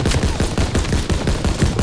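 Rapid bursts of machine gun fire rattle continuously in Call of Duty: WWII during a trench battle, loud and close, with repeated sharp shots layered over a dense action soundscape.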